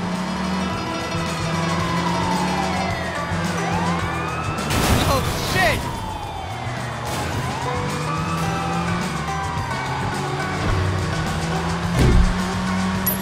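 Police cars in the video game Sleeping Dogs give chase with wailing sirens sweeping up and down, roaring engines and sharp tire squeals, loud and continuous throughout with bursts of skidding.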